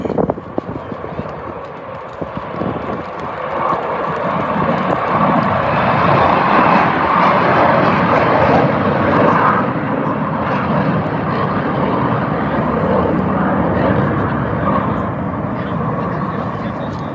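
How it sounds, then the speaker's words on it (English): Blue Angels Navy jet flying in to land at an air show, a loud sustained engine roar that builds and holds, under a commentator talking. "Here comes the new number 3, her first year again as a Blue Angel, Navy Lieutenant Amanda Lee"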